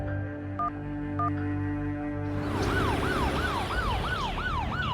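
An ambulance siren starts with a couple of short tones over a steady engine hum, then switches to a loud, rapid wailing sweep that repeats continuously close by.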